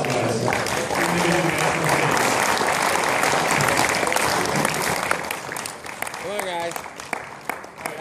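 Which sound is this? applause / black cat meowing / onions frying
applause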